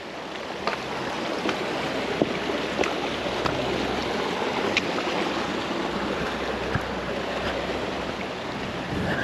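A loud stream rushes along the Appalachian Trail, a steady broadband roar of flowing water with no pauses, close and dominant with no voices over it.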